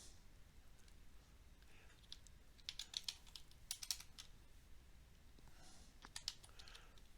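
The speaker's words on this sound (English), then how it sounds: "My fat fingers are not typing well today" Typing on a computer keyboard, quiet irregular key clicks coming in short bursts with small pauses between them, close and soft over a faint background hiss.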